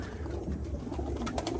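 Pigeons in a loft give low, soft cooing calls from a male, a short murmuring coo repeated close by with light background noise.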